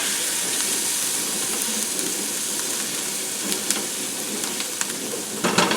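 Salted vegetables hiss in a pan with a steady, even sizzle, close and fairly loud, while a utensil scrapes and clicks now and then as they are stirred, growing busier toward the end.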